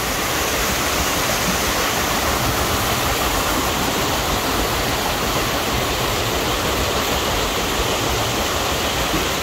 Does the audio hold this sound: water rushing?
yes